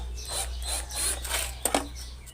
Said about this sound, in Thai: ไขสกูออกก่อนนะครับ จะมี 2 ตัวครับ